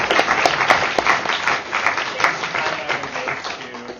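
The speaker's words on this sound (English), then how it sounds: "If we could give another round of applause." An audience at a university debate bursts into dense, sustained applause, many hands clapping steadily and loudly across the whole stretch without letting up.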